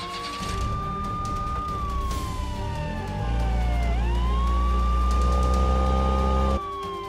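Wailing ambulance siren from a toy or cartoon ambulance stuck in slime, rising and falling steadily and loud throughout, with a heavy low engine-like rumble joining partway through and then cutting off near the end.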